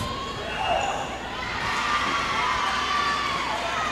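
A crowd of spectators cheers in a gym during a high school volleyball match between Clarke Central and Loganville. The roar is broad and sustained and swells louder partway through, with a few faint squeaks and bounces mixed in.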